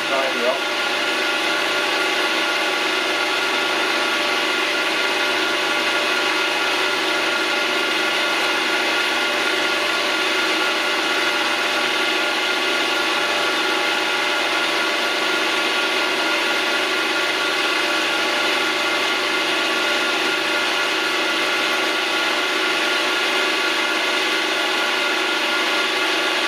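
A metal lathe cuts a mixture screw in a machine shop, fed gently by hand, giving a steady continuous whirring hum with a faint scraping edge, loud and unchanging from start to finish.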